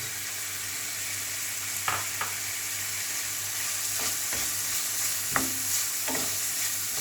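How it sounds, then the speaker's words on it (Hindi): Chicken pieces with green onion stir-fry in a pan for chicken fried rice, giving a steady sizzle broken by several sharp scrapes and clacks of the spatula, close and alone with no voices. "ये अच्छी तरह भून गया और अब हम डालेंगे हरा प्याज"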